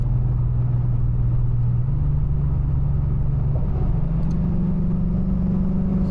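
A Lexus ISF with aftermarket headers and an engine tune drones loudly from inside the car under steady throttle, its pitch stepping upward through the run as it accelerates.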